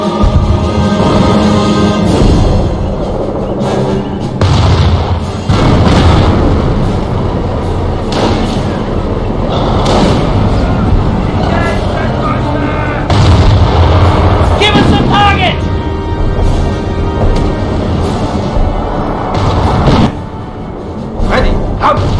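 Heavy booms and explosions from enemy fire pound a base in the Company of Heroes war game, a dense, loud, continuous barrage of impacts and rumbling battle noise with brief voices mixed in.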